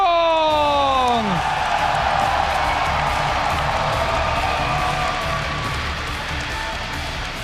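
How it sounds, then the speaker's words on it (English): Large esports arena crowd at BlizzCon cheering and shouting for a StarCraft match, a sustained loud roar after a descending electronic sweep, gradually easing off. "give a cheer for EG's Lee Jaedong!"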